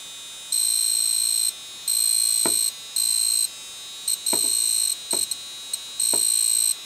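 High-pitched electronic beeping from a Jacob's ladder kit setup, in repeated bursts of about a second each, steady tone with short gaps, alongside a few faint clicks; no talking.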